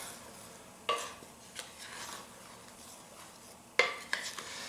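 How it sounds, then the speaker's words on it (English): Yeast and salt being stirred into flour in a mixing bowl for a hand-kneaded beer bread, heard as a few soft scraping strokes and knocks of a utensil against the bowl, quiet and close with no talking. "first I'm going to mix the yeast and the salt into the flour."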